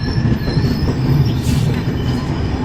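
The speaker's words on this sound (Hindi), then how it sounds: "ये है अपना ट्रेन" The Coimbatore–Mumbai LTT Express rumbles steadily at a station, with loud continuous wheel and carriage noise and a faint metallic squeal rising briefly.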